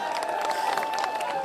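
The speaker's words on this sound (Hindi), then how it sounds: "देखिए तालियों की गूंज भी आपको सुनाई दे रही होगी" Crowd at an outdoor Ganga water supply event in Gaya, with a steady wash of clapping and cheering voices blended with a continuous tonal hum, fairly even in loudness throughout.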